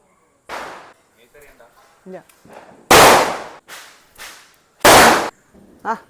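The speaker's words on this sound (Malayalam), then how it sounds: "അടുത്തത് ഓലപ്പടക്കമാണ് ഓലപ്പടകം" Palm-leaf firecrackers (olappadakkam) go off during Vishu: several loud, sharp cracks spaced a second or two apart, with people's voices talking in between.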